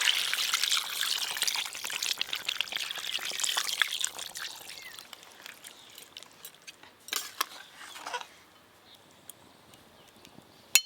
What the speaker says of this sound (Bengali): এবার জল দেব।